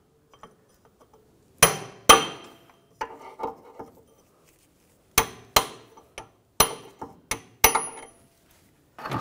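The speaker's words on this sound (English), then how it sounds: "Now with a large punch on the back side, the CV axle, just give it a tap." Hammer strikes on a large punch driving out the front right CV axle of a 2009-2010 BMW 535i xDrive: about a dozen sharp, close metallic taps in irregular bursts, some ringing briefly, with no talking.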